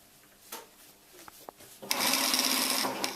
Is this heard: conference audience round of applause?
no